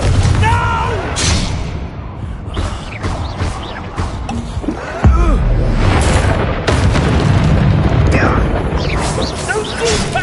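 Confringo explosive spell blasts in the Hogwarts Legacy video game, booming repeatedly through dense, continuous game action, with a sharp heavy hit midway, under overlapping character voices.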